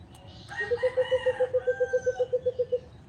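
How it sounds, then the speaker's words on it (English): A rooster crows close by with a rising call that breaks into a long series of rapid, evenly pulsed clucking notes, loud and clear over faint background noise. "Listen to that bird."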